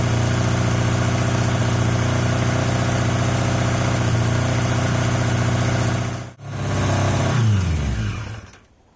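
A motorbike engine runs on only cylinders 3 and 4, with cylinders 1 and 2 dead, idling loud and close with a steady throbbing drone, a brief cut-out near the end, then a falling rev as it winds down.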